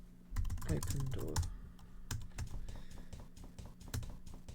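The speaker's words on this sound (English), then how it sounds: "So much typing." Fast clattering keystrokes on a computer keyboard, close and fairly loud, in quick irregular bursts with a brief murmur of a voice near the start.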